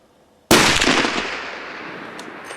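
A deer rifle fires once at a target outdoors: a single sudden, very loud crack followed by a long rolling echo that fades over about two seconds.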